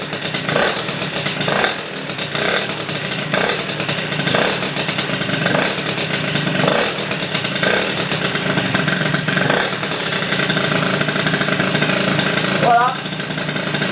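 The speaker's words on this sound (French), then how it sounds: "J'ai fini de tout remonter nickel, donc on va le faire démarrer." A rebuilt MBK 51 moped's two-stroke engine runs close up for the whole stretch, a steady busy idle with rhythmic clattering pulses and little change in pitch.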